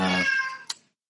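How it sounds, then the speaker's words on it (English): A house cat gives a single clear, drawn-out meow close by, followed by a brief soft sound before silence. "That's my cat in the background."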